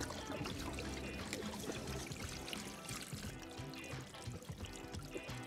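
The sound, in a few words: water draining out of a pool heat pump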